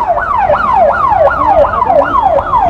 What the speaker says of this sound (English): So the ambulance arrives quite rapidly